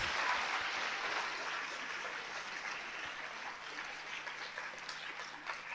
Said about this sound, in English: I think we can have a thunderous applause for this.